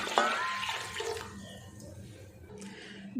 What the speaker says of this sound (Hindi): और पानी में इसमें 4 कप डाल रही हूँ।